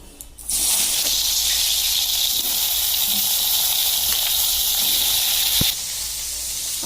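Food sizzles loudly in hot oil in a kadai, a steady broadband hiss that jumps up after a brief quiet start and runs unbroken, easing slightly near the end.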